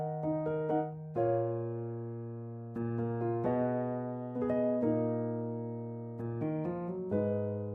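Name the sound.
Noir felt piano sample from Kontakt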